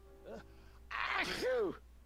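A character in the Back to the Future video game gives a short, voiced sneeze, a quick inhale followed by a sharp burst, quiet and heard within the game's audio.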